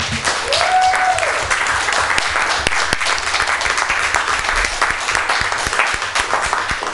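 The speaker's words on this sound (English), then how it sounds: "Please join me in a round of applause for the candidates." A round of applause from the audience for the candidates at the Emeryville candidate forum in October 2018, steady, full clapping from many people throughout, with no talk over it.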